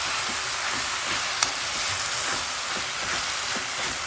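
Spinach (palak) and chicken fry in oil with masala spices, giving a steady, close hiss of sizzling with faint stirring taps throughout.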